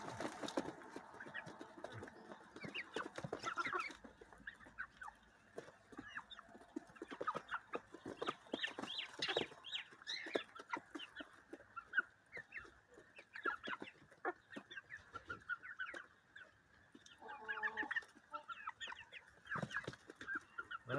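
Young rooster chicks being fed egg, clucking and peeping continuously at close range in a lively, overlapping chorus of short calls.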